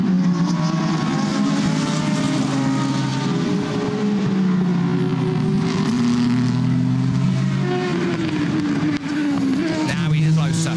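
Aston Martin and Ford race cars accelerate during the 6 Hours of Nurburgring, their engines holding a loud, continuous roar that rises and falls in pitch as they exit a turn, while a commentator talks over them.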